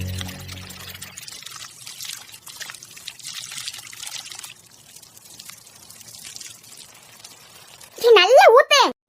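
Water is poured, giving a soft, continuous trickling and splashing that runs for several seconds before a voice speaks loudly at the end.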